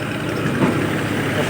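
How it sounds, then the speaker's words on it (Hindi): A tractor engine rumbles on a narrow road in Kashmir, a steady low mechanical drone that swells slightly as it approaches, with no voices. "इधर जनाब ट्रैक्टर आ रहा"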